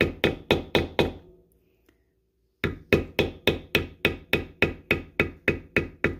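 Rapid, evenly spaced knocks from a hand tool struck with a mallet while beveling a basket weave pattern, likely in leather: a run of close, sharp taps, a pause of over a second, then another steady series.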